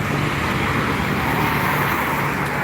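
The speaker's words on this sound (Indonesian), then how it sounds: "bus dan truk yang melintas sekitar Jalan Lintas Timur Palembang" Buses and trucks pass on Jalan Lintas Timur in Palembang, a loud, continuous roadway rumble of heavy vehicles with steady engine and tire noise close by and no voices over it.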